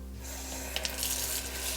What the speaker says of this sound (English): And then I'm going to give it a good rinse.